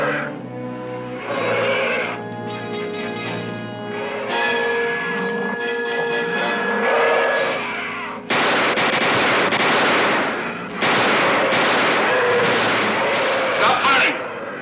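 Gunfire erupts in a scene of the TV series Voyage to the Bottom of the Sea: bursts of shots and clattering automatic fire alternate with tense music, stopping and starting in loud close blasts, with voices shouting between.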